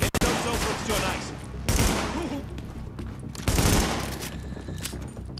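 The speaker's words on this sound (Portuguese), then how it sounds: "Os amigos aqui ainda estão atirando." Gunfire in the shooter The Division, repeated close shots and bursts, loud and cracking, spread across a few seconds amid dense game sound.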